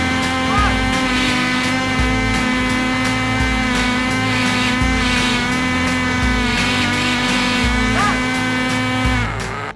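A nitro engine powering a pencil sharpener runs at a loud, steady high-pitched buzz with a constant droning tone, close and continuous for the whole stretch before cutting off at the end.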